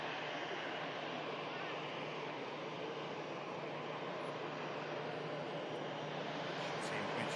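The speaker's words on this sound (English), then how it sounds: "Ryanair heading out to Alicante. You're just about to see in shot is already about to enter the runway for departure." A Ryanair airliner departing for Alicante taxis onto the runway, heard as a steady, distant jet engine roar that holds even and unbroken throughout.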